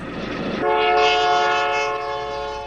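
A loud in-game train from the video game My Name is You rumbles past, its rail noise swelling as a sustained, harmonic horn blast kicks in and holds for about two seconds before easing slightly.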